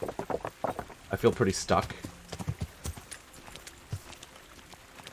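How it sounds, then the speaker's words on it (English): Horse hooves clip-clop in the medieval role-playing game Kingdom Come: Deliverance, a run of quick, fairly close steps mixed with a person talking throughout. "Horse! Okay. Horse!"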